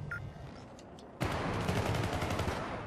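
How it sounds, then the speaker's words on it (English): Gunfire in the video game Syndicate, a sudden loud burst of rapid automatic shots that starts partway through and continues steadily to the end, after a quieter opening. "They're already trying to shoot me."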